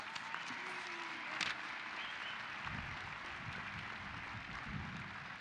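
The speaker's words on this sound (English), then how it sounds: "let's give these individuals a round of applause" Audience applause at a university commencement ceremony, with steady, dense clapping heard from a distance, faint and even throughout.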